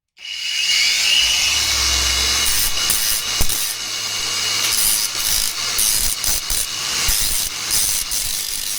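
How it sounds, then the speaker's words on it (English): An angle grinder grinds excess weld off a pressure washer pinion shaft, a steady loud abrasive whine running continuously from start to end with small scraping variations. "I'll just take the angle grinder to the top, trying to take the excess off."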